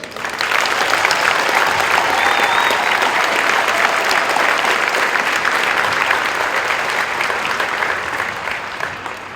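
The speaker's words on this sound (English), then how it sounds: "I would ask you to give a round of applause to this dedicated team of professionals." Sustained, dense applause from a large crowd at a military training squadron coin and retreat ceremony for graduating airmen, loud and steady throughout before gradually tapering at the end.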